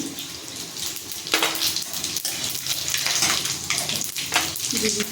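Whole garam masala spices, including cumin, black peppercorns and bay leaves, fry in oil for biryani, a close crackling sizzle with clatter and stirring bursts, faint background voice.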